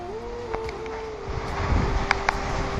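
Strong windstorm gusts battering a house, roaring as a steady broadband rush that swells louder in the second half, with a few brief sharp knocks and rattles, no talk.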